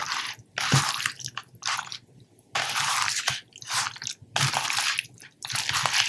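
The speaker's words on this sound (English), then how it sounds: "then we're just going to mix all this up nice and pretty up" Venison being hand-mixed in a bowl with a marinade of white wine, cumin powder and cornstarch, giving close, wet squishing and sticky smacking bursts in irregular rhythm.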